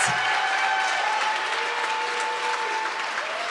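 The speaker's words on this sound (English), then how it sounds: "Let's get a round of applause for Gary." Crowd applause for an award winner at a company presentation, continuous dense clapping that fills the room, loud and close, with a faint held tone beneath it.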